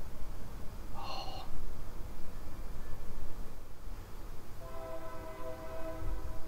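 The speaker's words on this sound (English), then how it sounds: "Dude, trains." Distant train horns from a railway near a hotel in Baytown, Texas, sounding twice, a brief tonal blast early on and a longer sustained one near the end over steady outdoor background noise.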